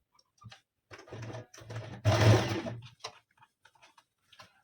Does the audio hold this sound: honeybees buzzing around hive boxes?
no